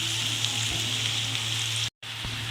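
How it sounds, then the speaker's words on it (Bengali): Potatoes frying with onions in a pan for Bengali-style flattened rice pilaf give a steady, close sizzle that cuts out for a moment near the end, then resumes. "এবার পেঁয়াজের মধ্যে আলুগুলো আমি দিয়ে দিলাম ভালো করে ভেজে নিই"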